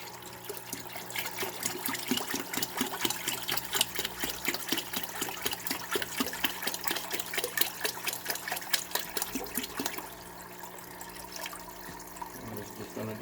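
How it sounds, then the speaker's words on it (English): Liquid from a hot water tank flush pours steadily into a bucket with a splashing, trickling sound for about ten seconds, then fades to a quieter drip and swirl. "And pour the whole thing in the bucket."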